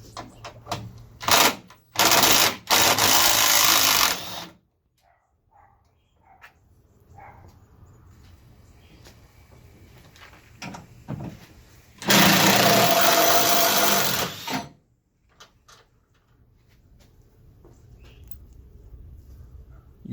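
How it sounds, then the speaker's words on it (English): A 10 millimeter socket wrench works battery crossbar bolts loose on a 2015-2019 Chevrolet Silverado 2500HD Duramax, with bursts of loud buzzing ratcheting separated by quieter stretches of handling noise and clicks. "We're going to use a 10 millimeter to take this off."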